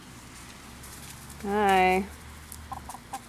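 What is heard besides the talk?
chickens approaching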